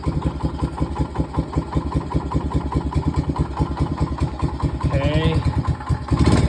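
A 1971 Honda SL70 motorcycle idles after a cold start outside in cold weather, its small single-cylinder engine putting out a steady, rapid, close putter that grows a little louder and faster near the end as the revs rise.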